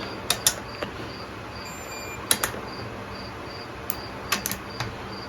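Ratchet wrench tightening bolts on a Subaru engine during reassembly: short bursts of sharp clicking come in scattered clusters, close and crisp, over a quiet background hum with a faint high-pitched tone.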